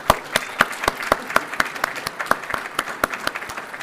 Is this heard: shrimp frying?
no